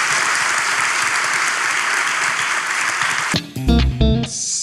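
Loud, dense studio audience applause on a Turkish relationship-quiz talk show, sustained without a break for over three seconds before cutting to short bright musical stabs at the close.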